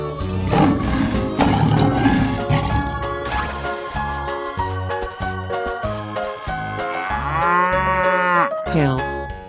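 Cow mooing in a 3D animal slide video game, long drawn-out moos layered over bouncy game music with jingly effects, loud and close throughout.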